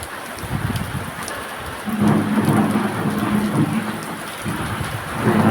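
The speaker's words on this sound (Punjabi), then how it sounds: "ਫਿਰ ਕਿਤੇ ਜਾ ਕੇ ਮੀਂਹ ਆਇਆ" Steady rain pours down over Punjab farmland during the monsoon month, with deep thunder rumbling through it in long rolling waves; no voices are heard.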